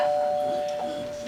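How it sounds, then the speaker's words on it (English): A door chime rings with one sustained, steady tone that slowly fades over about a second, heard on its own at moderate loudness. "The door is chiming."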